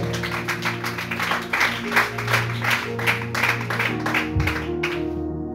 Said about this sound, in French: si tu comprends, acclame pour la gloire du Seigneur